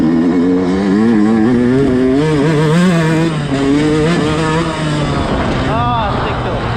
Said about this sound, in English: the new top end really woke up the bike